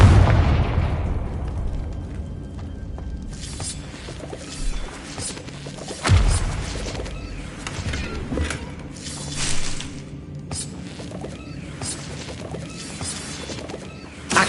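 A Confringo spell detonates in a Harry Potter video game: a heavy booming blast up front, then a series of crashing impacts and smaller bursts rumbling on, with another thud midway and a final hit at the end.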